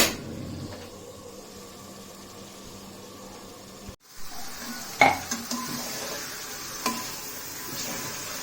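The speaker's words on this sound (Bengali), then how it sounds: "তো আস্তে আস্তে নাড়তেছি আমি" A utensil scrapes and stirs onions, chilies and oil in a pot over a soft sizzle, with a few light clinks of metal against the pan.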